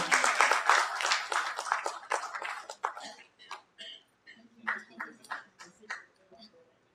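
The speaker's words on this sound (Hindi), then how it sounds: "एक बार जोरदार ताली से।" After a comic stage play, a modest audience claps for the actors and director. The applause is fairly dense at first, then thins to a few scattered, fading claps, with some voices at a low level.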